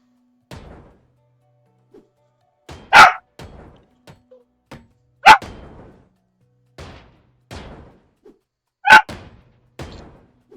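A nearby dog barks three times, sharp and loud, with softer yips and grunts scattered between the barks and no talk over them.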